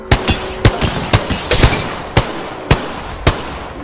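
Gunfire in the video game Apex Legends, a string of loud, sharp, close shots in uneven bursts with short gaps between them.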